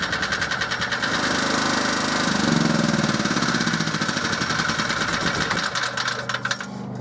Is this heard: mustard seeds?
no